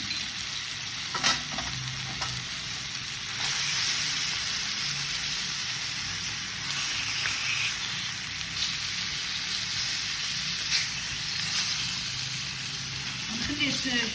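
Garlic sizzles in hot oil with a steady, dense crackle that runs throughout, broken by occasional stirring scrapes and a few soft clanks.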